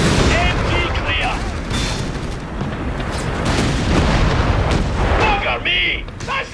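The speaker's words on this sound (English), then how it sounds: "That's high velocity fire!" Heavy high-velocity gunfire in the Company of Heroes 3 battle game, with dense overlapping shots, booms and bursts filling the whole stretch loudly, while in-game voices shout over the combat.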